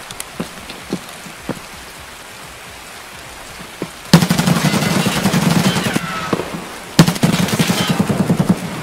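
A distant AI bot fires at the player in Escape from Tarkov: a few faint, scattered shots, then two loud stretches of rapid automatic fire that crackle over a steady patter of in-game rain.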